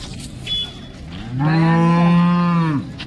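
A cow moos once, loud and close, in one long drawn-out call at a cattle market, with faint background noise before it and no talking.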